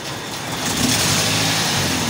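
A car engine revs during fault diagnosis with noticeable vibration, a steady rumbling drone that swells slightly as the throttle opens, close and loud.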